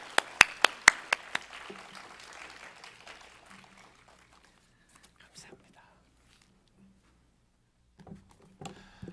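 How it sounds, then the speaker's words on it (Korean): Several loud, evenly spaced hand claps at a church autumn festival service welcoming the pastor, dying out after a couple of seconds into quiet room noise with faint murmurs and scattered later sounds. "우리 목사님 나오시면 우리 환영의 박수 한번 하겠습니다."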